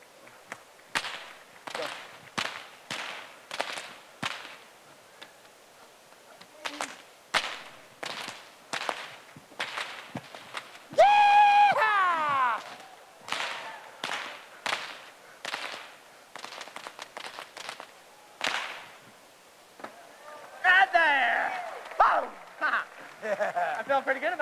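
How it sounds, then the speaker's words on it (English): Two whips cracked in a fast performance routine at a shooting-sport closing ceremony, sharp repeated snaps in quick rhythmic bursts, loud and near, with crowd noise and a brief whistle-like tone in the middle. "let's see what I can do with two whips"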